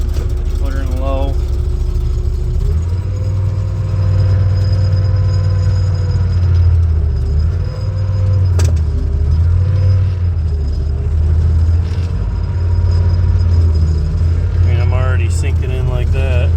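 Big 4-wheel drive tractor engine working in low gear in a soft hay field, a loud, steady low rumble that holds throughout, with someone talking over it.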